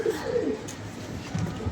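Pigeons coo in soft, low, throaty bursts at close range, a brief run of calls at the start and a few more near the end, with faint background noise between.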